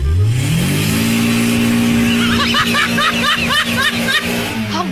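A combustion-engine car revs loudly and close, its engine pitch climbing through a rising vroom with a steady drone underneath.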